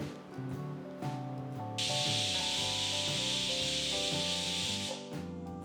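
A pressure cooker holding cooked Kashmiri rajma lets off its steam in a steady, loud hiss lasting about three seconds, with background music playing throughout.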